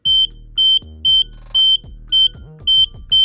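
An Arduino touch sensor switch triggers a beeper, giving seven short, loud, high-pitched beeps in a steady on-off rhythm over low handling thumps and hum.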